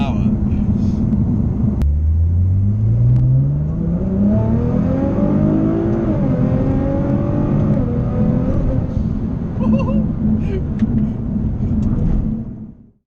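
A 700hp Nissan GTR R35 Black Edition launches with a loud, sustained engine roar whose pitch climbs steadily as it accelerates hard, then fades toward the end, with voices talking faintly over it.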